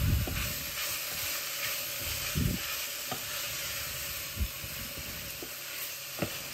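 Asian fried rice with chicken and vegetables being stirred in a hot pan makes a constant sizzle and hiss, with occasional soft scrapes and knocks of the utensil.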